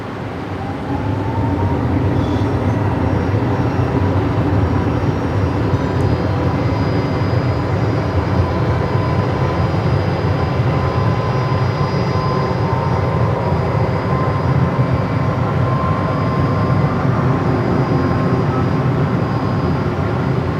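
Emirates airliner's jet engines on its night takeoff roll at Brisbane Airport, a loud, sustained broadband roar holding steady for about twenty seconds with a faint whine on top.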